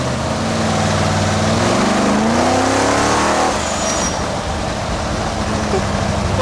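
A powerful car engine of about 2200 horsepower roars loudly as it accelerates hard on the road, its pitch climbing steeply through the gears before settling into a steady high-speed drone.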